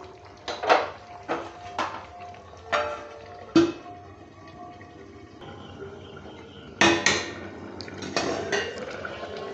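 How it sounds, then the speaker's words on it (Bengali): Metal pot and lid clanks while a meat curry with papaya cooks, a series of sharp close knocks and rattles spaced a second or two apart, with a louder clatter near the end over a faint simmering background. "এরপর আমি ঢাকা দিয়ে দেবো"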